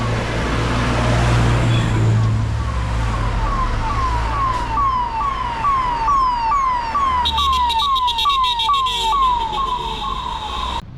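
Ambulance siren on the Agumbe Ghat mountain road, a steady rising-and-falling wail that repeats continuously and loudly over the low rumble of vehicle engines nearby.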